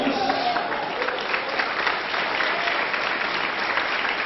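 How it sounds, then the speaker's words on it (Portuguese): Church congregation at a fidelity seminar in Goiânia, Brazil, applauding in praise: dense, steady clapping from a large crowd, loud and continuous with a faint voice beneath. "Glorifique o Senhor, aplaude o Senhor Jesus."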